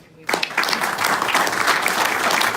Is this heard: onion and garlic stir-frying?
no